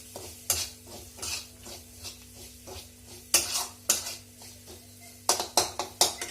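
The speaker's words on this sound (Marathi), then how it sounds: "आता आपण हा मसाला व्यवस्थित फ्राय करून घेऊया" Masala for an okra curry fries in a pan while a spatula stirs it, producing repeated close scrapes and clinks against the metal over a faint sizzle, busier toward the end.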